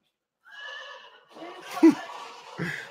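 A horse whinnies in a short rising-and-falling neigh, followed by a couple of softer snorting sounds, fairly close and otherwise quiet.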